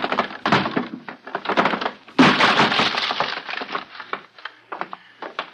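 A wooden door being forced and broken open in a radio drama, a string of heavy thuds and cracking, splintering wood with one loud smash near the middle, close and harsh.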